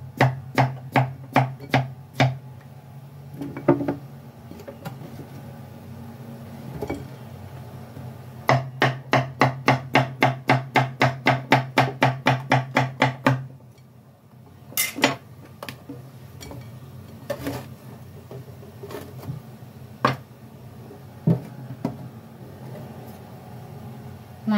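Young papaya is chopped on a board for coconut water soup: rapid bursts of sharp knife strikes, some fast runs and some spaced single chops, close and distinct.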